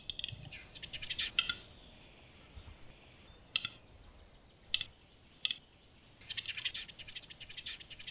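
A male capercaillie performs its display call in a forest, a faint series of dry clicks and pops with brief bursts of hissing, spaced irregularly over quiet woodland ambience.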